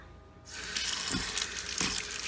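Water poured onto sprouting mung beans, a steady close rush and splash that starts after a short quiet moment and keeps going to the end.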